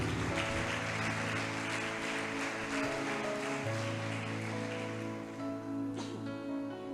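A church congregation applauds during a Spanish-language service, a dense, sustained wash of many hands clapping together over musical instrument tones, loud and continuous throughout.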